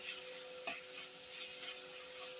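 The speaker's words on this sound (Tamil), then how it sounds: "மிக்சடாக எல்லாத்தையும் நம்ம நல்லா வதக்கிட்டு" Onion, cucumber, tomato and green chillies for cucumber chutney are sautéed in a pan, giving a steady, soft sizzle with one brief scrape of stirring, alone and without talk.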